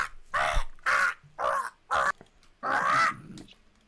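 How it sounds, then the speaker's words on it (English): A cartoon sound effect of a bird falling down a hill: five loud, harsh crow-like caws in an uneven rhythm, the last one longest, with nothing else around them. "that's the bird falling down the hill"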